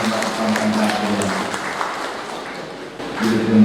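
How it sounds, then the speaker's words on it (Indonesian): An audience at a Christmas celebration in Cabean applauds, a loud continuous wash of clapping over a steady hum, with some voices mixed in. "Kita berikan tepuk tangan yang diakui bersama kita mendatangkan hadiah."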